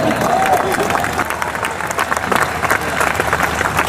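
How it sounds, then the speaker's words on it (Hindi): An audience at a political speech breaks into clapping, a dense, fairly loud applause that carries on steadily through the whole stretch. "तालियां बजा सकते हैं आप।"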